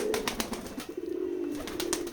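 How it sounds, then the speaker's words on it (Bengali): Pigeons coo steadily in a Bangladeshi pigeon farm in Keshabpur, Jessore, housing many local and foreign breeds along with squabs; soft repeated low coos continue throughout with no talking. "আপনারা দেখতে পাচ্ছেন আমাদের এই খামারে অনেকগুলাই কবুতর আছে এবং বাচ্চাও আছে।"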